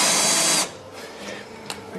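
A power drill bores a hole to tapping size with a 6.75 mm bit. It gives a loud, steady, close whir for about half a second, then cuts off, leaving faint handling clatter.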